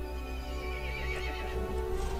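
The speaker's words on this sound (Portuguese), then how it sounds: "O cavalo ficou irritado e chamou os outros monstros." A horse in the video game Resident Evil Village lets out a loud, close neigh, a drawn-out whinny over a low rumbling game background.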